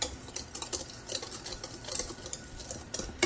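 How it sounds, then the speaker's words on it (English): Dry keto ingredients being stirred together in a bowl, with a spoon or whisk scraping in quick repeated strokes, close up and fairly loud, no talking. "So now I have to mix this all in."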